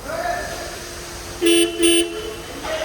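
A Tata car horn honks twice in short, loud blasts close by at a service visit, with engine hum and faint talk around it.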